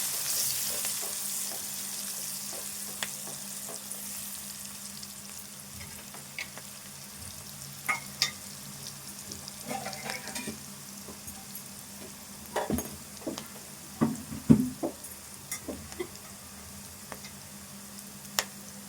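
Onions fry in a pan for prawn curry with a constant soft sizzle, joined later by scattered scraping and clinking as a spoon stirs them.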